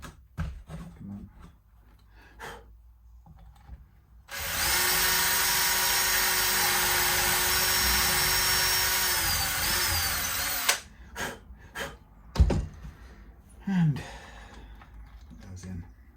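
A power drill drives screws into the neck joint of an Ibanez S520 electric guitar in one loud, sustained whine of about six seconds, framed by quiet handling noises and soft breaths.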